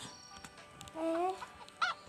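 A chicken in a video game gives a short honking call twice, synthetic and slightly tinny, over a faint electronic background with a few soft clicks.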